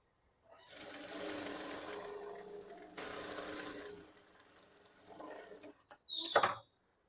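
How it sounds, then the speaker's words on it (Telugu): Sewing machine running in two long stitching bursts along a blouse seam with a 1/2 inch margin, a steady close mechanical whir, then a pause and a short sharp burst at the end; no talking. "ఇక్కడ నుంచి 1/2 ఇంచు మార్జిన్ పెట్టి స్టిచ్ వేసుకోండి"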